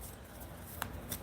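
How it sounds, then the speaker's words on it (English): A deck of cards being shuffled during a live spirit-message reading, quiet riffling under low room noise with two short sharp card snaps near the end. "Denise, I'm shuffling. I'm shuffling."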